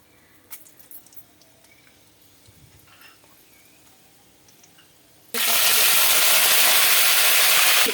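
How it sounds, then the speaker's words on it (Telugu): Mustard and fenugreek seeds hit hot oil for a Telugu bitter gourd pulusu, erupting into a loud, dense, continuous crackling sizzle after a quiet stretch of faint kitchen clatter. "ఆవాలు 2-3 స్పూన్స్ వేస్తున్నాను. అదే మాదిరి ఒక స్పూన్ మెంతులు, చిన్న స్పూన్ మెంతులు వేస్తున్నాను."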